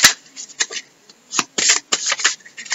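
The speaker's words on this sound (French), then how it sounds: "je voulais vous sortir une dernière carte pour terminer ce tirage" Oracle cards are shuffled by hand, giving bursts of crisp riffling and slapping in an irregular rhythm, close and fairly loud, with brief pauses between bursts and no speech.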